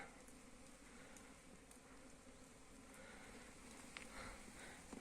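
Honeybees buzz around a feeder near their hive, a faint, continuous hum of many insects nearby, with a few brief louder passes toward the end and no talk.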